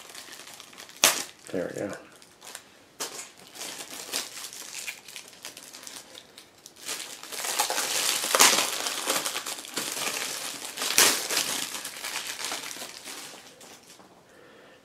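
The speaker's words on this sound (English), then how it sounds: "Must cut it with a knife." A knife cuts open plastic toy packaging, producing crinkling, crackling plastic and scraping snaps in uneven bursts that grow busier midway, heard close up under a man's occasional speech.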